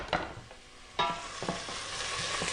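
Garlic sizzles in a pan for an Italian pasta sauce, a soft crackling fry punctuated by several sharp stirring scrapes and clacks of a utensil against the pan, close and fairly quiet.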